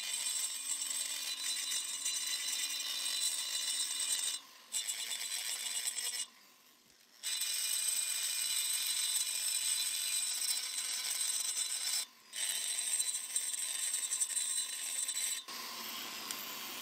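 A rotary burr grinds texture into a cylinder's intake port, a steady high-pitched whine running almost continuously across several passes, with a few brief pauses between them and a short break near the end.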